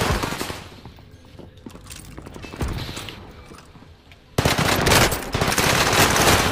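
Submachine gun fire in Call of Duty, scattered shots and mechanical clatter at first, then a sudden loud, sustained burst of rapid gunfire.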